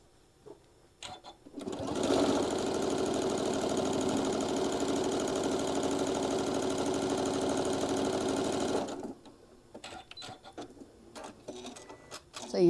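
A sewing machine stitching the seams of an Aquila table runner runs steadily for about seven seconds, loud and close, with brief quiet handling before and after.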